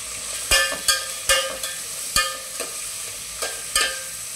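Cabbage fries over a high flame for an Indo-Chinese dish, with a bright continuous sizzle punctuated by about eight loud, rhythmic clanks and scrapes of a spatula tossing it in the pan, close up and free of speech.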